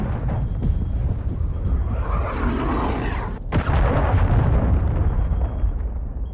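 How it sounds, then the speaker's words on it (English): Cruise missile strike in the Modern Warfare 2 shooter, a loud, close, rumbling explosion that swells and rolls on for several seconds amid a brief dropout, with low booming debris continuing afterward. "Hostiles launched a cruise missile."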